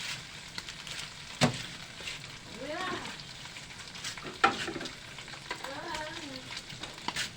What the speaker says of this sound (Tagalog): Nagigisa po tayo ng kuan.